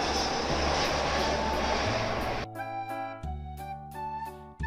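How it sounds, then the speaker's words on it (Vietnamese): Jet airplane landing on a runway, a loud, steady engine roar and broadband rush for about half the clip, then cut off by a bright, rhythmic children's song with plucked and keyboard notes. "Máy bay phản lực đang hạ cánh xuống đường băng."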